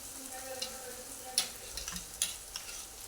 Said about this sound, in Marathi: हे वाटण आपण एक मिनिट मिनिटभर तेलामध्ये चांगलं परतून घ्यायचं आहे